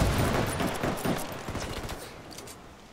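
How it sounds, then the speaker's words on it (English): Heavy automatic gunfire in the shooter game Ghost War, loud dense bursts up front that gradually thin into scattered, fading shots toward the end. "I'm under heavy fire!"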